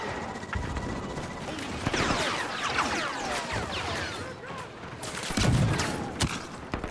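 Star Wars Battlefront 2 battle on Endor: dense blaster fusillades and laser bursts layered with whooshing effects and explosions, continuous and loud with no pause.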